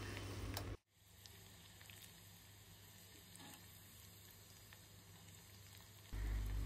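Crushed garlic and chilli hit hot oil for a tempering, giving a steady, close hiss of sizzling that continues evenly for several seconds after a brief pause, with no one speaking.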